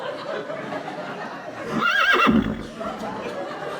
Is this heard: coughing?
no